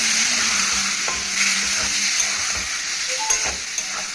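Masala gravy for Punjabi chole, freshly loosened with a splash of water, hisses and bubbles loudly in the pan while a spoon stirs it in steady strokes, with no voices.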